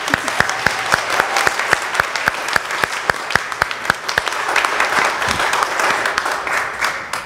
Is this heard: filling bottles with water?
no